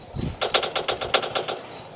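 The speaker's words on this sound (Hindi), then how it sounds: "फिर उसने अपनी मिनी गन निकाल दी" Rapid burst of minigun fire in the Rope Hero video game, about ten quick evenly spaced shots in a tight rhythm, loud and close with no talking.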